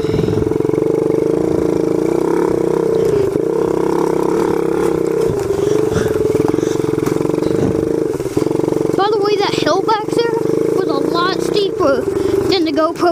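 A four-wheeler ATV engine hums steadily while riding on trails, a constant close drone with slight rises in pitch, while a person talks over it throughout.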